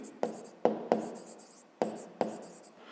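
A pen writes on paper in a math exercise book, five sharp taps and scratches spaced irregularly, close up and quiet, with no speech.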